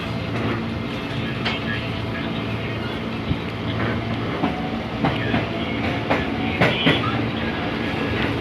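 A KRL commuter train on the Bogor line, riding out from Tebet station, rolls along with a steady rumbling drone. Periodic clickety-clack rail joints sound throughout, and faint voices are heard in the background.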